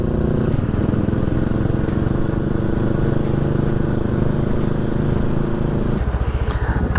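A Kawasaki Z650 motorcycle is heard while riding on a ghat road near the Goa border in the morning. The engine drone is loud and continuous, with a pulsing rhythm and strong wind buffeting, and it eases off near the end.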